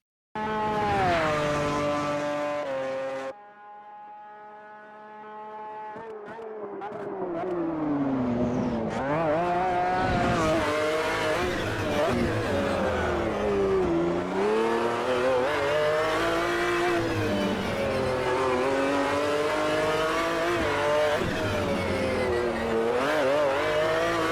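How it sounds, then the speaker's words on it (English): McLaren F1 GT-R GT1 racing car with a BMW engine, driven around the Long Beach circuit in Automobilista 2, revs loudly and continuously close by, with rising and falling engine pitch through gear changes and corners and a brief quieter lull early on. "Old GT1s, McLaren F1 GT-R, powered by a BMW engine, and took that around Long Beach."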